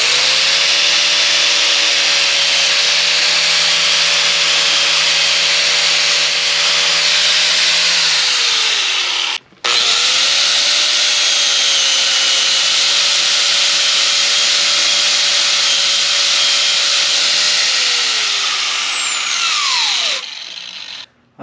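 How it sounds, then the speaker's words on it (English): A power tool strips paint from a steel trailer fender in two long, loud, steady grinding runs, each winding down at its end, with a brief pause between them and no talk. "I'm going to go ahead and strip the paint off because it's a lot easier welding"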